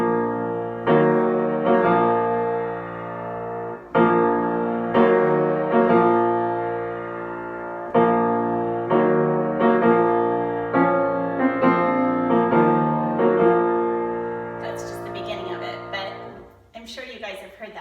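Solo piano playing the opening of Chopin's funeral march, slow heavy chords struck in a steady dirge rhythm, close and full, ending in a brief rustle with no talking.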